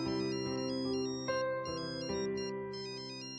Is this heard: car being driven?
no